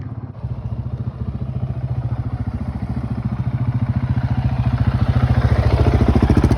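A Husqvarna 701 motorcycle approaches with a thumping single-cylinder engine, its rapid pulsing beat growing steadily louder and closer as it arrives.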